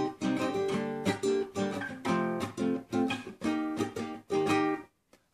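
An acoustic guitar plays the chorus of a song with a rumba-style strum: rhythmic bursts of strummed chords, close and clear, ringing out and then stopping near the end.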